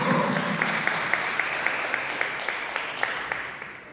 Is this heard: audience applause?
yes